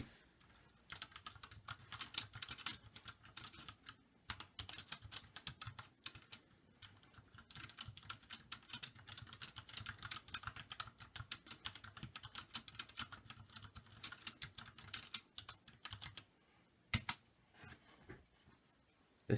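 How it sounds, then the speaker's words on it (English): Close typing on an ASUS AK33 keyboard produces quick runs of clacky keystrokes with short gaps and a few heavier thumps near the end. "This is my previous keyboard, the ASUS AK33."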